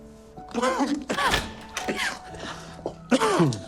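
A person recovering from pneumonia coughs and clears their throat in several rough, close bursts, with brief pauses between them.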